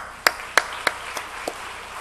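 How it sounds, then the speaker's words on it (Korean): A few separate hand claps ring out in a church congregation, spaced irregularly and fading over two seconds, with no sustained applause. "박수하겠습니다"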